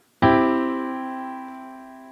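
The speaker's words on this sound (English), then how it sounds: "Here is the sound of a major triad." One major triad chord is struck and rings out on its own, several sustained notes sounding together and slowly fading.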